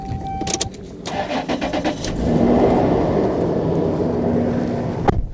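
A 1999 Toyota Land Cruiser Prado cranks briefly with a few starter whirs, then catches and settles into a steady, close idle that continues to the end.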